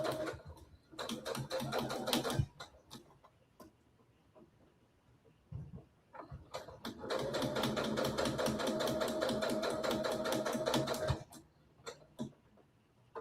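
Brother SE700 sewing machine stitching through the layers of a zipper headband, running in two bursts of steady rapid needle clatter with a short pause and a few isolated clicks between them.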